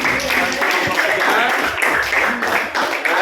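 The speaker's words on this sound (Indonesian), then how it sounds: "Berikan tepuk tangan." A class applauds at the end of a group presentation in an Indonesian teacher-training lesson: a dense, steady patter of many hands clapping near the listener, with some voices mixed in throughout.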